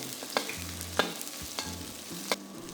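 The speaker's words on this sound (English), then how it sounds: "In the same pan, without washing it, add in more oil. Fry the garlic, ginger," Garlic and ginger frying in oil in a wok for Kung Pao chicken, a steady soft sizzle broken by several sharp scraping stirs of the spatula against the pan, close and fairly quiet with no talking.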